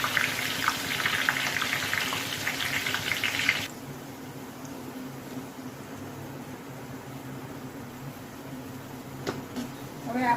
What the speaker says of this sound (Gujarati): હવે આપણે ડુંગળીની સ્લાઇસ કરવા મૂકી દઈશું.